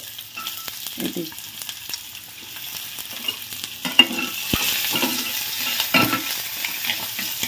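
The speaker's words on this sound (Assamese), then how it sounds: "পিঁয়াজটো দি পেলাই অলপ ভাজি ল'ম ৰঙচুৱাকৈ" Onion fries in two spoonfuls of refined oil while being stirred, a close bright sizzle with occasional scrapes and taps of a spoon in the pan, no voices present.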